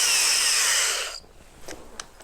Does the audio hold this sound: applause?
no